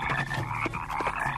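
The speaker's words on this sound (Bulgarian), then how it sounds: "Жаби, изчезнете!" A chorus of frogs croaks continuously in a dense, steady mass, close and fairly loud, with throaty pulses overlapping throughout.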